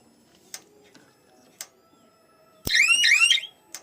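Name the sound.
solar electric fence energizer alarm sound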